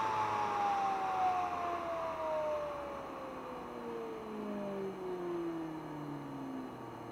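Zero Lenz dynamo wheel spinning down from 7,030 RPM: a steady close whine that slides gradually lower in pitch as the wheel decelerates, with no talk.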